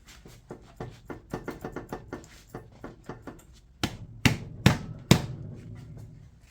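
A hammer knocks metal parts on the front end of a John Deere LX178 lawn mower, first a quick run of lighter taps and then four heavy, ringing blows, close and loud.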